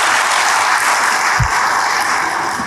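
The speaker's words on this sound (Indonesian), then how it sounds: "Jangan buru-buru tepuk tangan." Steady applause from a church congregation, a dense continuous clapping that stays loud throughout.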